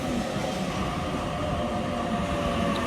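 A Sydney passenger train pulls into platform 3 at Auburn station with a steady, loud rumble of wheels and motors that holds unbroken to the end, with no voices.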